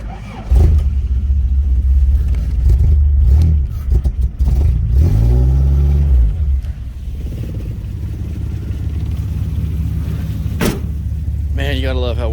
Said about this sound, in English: Man, you gotta love how well these things start. Alright. The old 22R is running.